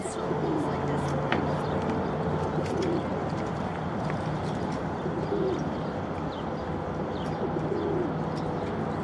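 A male pigeon courting a female coos softly in repeated low bursts over steady outdoor noise at Sparks Marina, with occasional faint chirps and a voice in the background.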